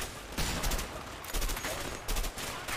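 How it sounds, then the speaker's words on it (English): Gunfire in the video game A Way Out, several rapid bursts of shots in quick succession, loud and close, with no talk. "I'll shoot down here at these guys."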